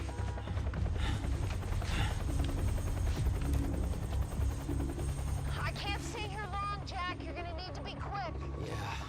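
A helicopter in the video game Quantum Break churns with a steady low rotor thump throughout, joined by scattered gunfire and game effects, with voices talking over it.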